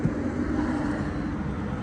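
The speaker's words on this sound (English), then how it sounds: "start the car with you." Engine of a Lexus 350 car running steadily, a continuous low rumble held at even loudness throughout, close by with no talk.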